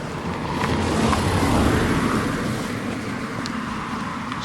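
A steady, loud roar of heavy road traffic rushes past continuously, dense and broadband, with no voices and no distinct individual vehicles standing out.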